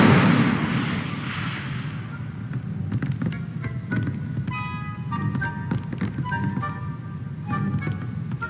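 A fire spell being cast in the Hogwarts Legacy video game, a roaring whoosh followed by a series of bright magical chimes and crackling bursts over a steady rumbling background, fairly loud throughout.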